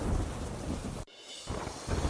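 Dense roaring rain pours steadily in a heavy monsoon downpour in Porbandar district, Gujarat, with low rumbling of thunder, broken by a brief sudden drop before the downpour and rumble resume.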